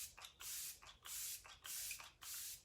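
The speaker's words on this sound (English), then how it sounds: "we're gonna finish with setting spray" Makeup setting spray mists onto a face in four short, airy pumps, each a soft hiss separated by brief pauses, close and quiet with no talking.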